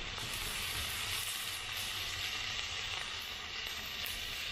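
Teriyaki sauce sizzling loudly on a hot Blackstone griddle over chicken, shrimp, egg and broccoli hibachi fried rice, a steady dense hiss and crackle running unbroken throughout with no talk.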